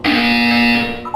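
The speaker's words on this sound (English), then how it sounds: "When you hear the buzzer, look up at the ceiling." A loud electronic buzzer from the Portal 2 video game sounds once, a steady harsh tone holding about a second before cutting off, heard alone.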